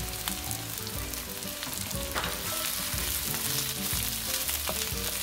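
Tofu and broccoli stir-frying in a pan for Thai vegetable fried rice with basil, a steady crackling sizzle broken by scraping stirs.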